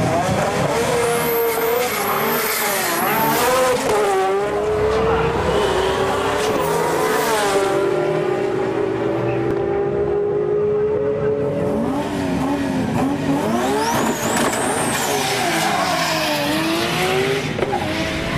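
An Endless-built Nissan Skyline GTR R33 with a 2.8 litre HKS kit, HKS 3240 turbos and 1200 PS roars at a Japanese street meet, engine note rising and falling through hard revs and gear changes, loud and continuous.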